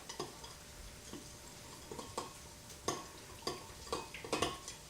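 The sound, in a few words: stirring food in a pot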